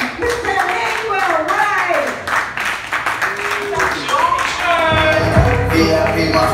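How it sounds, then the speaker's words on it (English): A comedy crowd claps to bring a comedian on stage, a brisk patter of hands running under a loud announcer's voice that shouts over it, with the clapping growing fuller toward the end. "I'll start clapping right now!"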